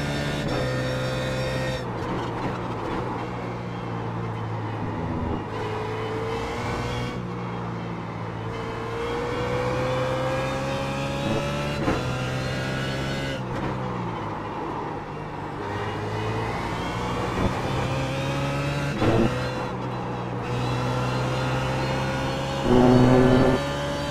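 A race car engine drones steadily through the Spa 24 Hours endurance race, its pitch rising and falling through repeated gear changes and revs. The sound is continuous and sustained, with a louder push near the end.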